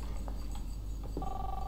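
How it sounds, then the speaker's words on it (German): A telephone rings in the video game Life is Strange, a short electronic ring tone that starts near the end over a low, steady background hum. "Jetzt klingelt das Telefon."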